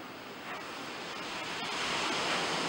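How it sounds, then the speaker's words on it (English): Ocean surf at a beachfront villa in Palmilla, a continuous broad wash of waves rising slightly in loudness, with some wind noise and no talking. "And you can hear the waves just slapping."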